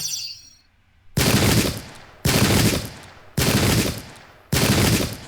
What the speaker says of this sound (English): Even at this range, we can start popping off some shots.